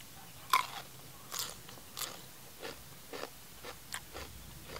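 Crunchy grilled chicken skewers being bitten and chewed outdoors, close by, with a sharp first crunch followed by a steady series of crisp chewing crunches and no talking.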